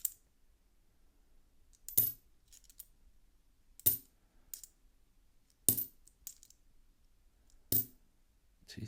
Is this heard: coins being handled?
yes